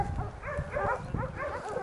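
Hunting dogs bark and yip repeatedly during a wild boar hunt outdoors, moderately close, with rough overlapping barks in quick succession.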